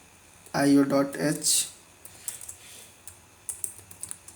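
Typing C code on a computer keyboard, a quick burst of clacking keystrokes followed by scattered lighter taps, heard close while someone talks over it.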